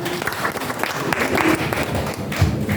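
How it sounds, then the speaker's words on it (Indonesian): Applause from attendees at a regional coordination meeting, a close, busy patter of hand claps lasting a few seconds with some scattered thuds and no speech over it. "Ya, tepuk tangan untuk kita semua."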